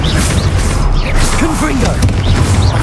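Depulso spell in the Hogwarts Legacy video game during a battle: loud, dense game combat noise with booming impacts and mechanical clatter, plus brief voice-like calls in the mix.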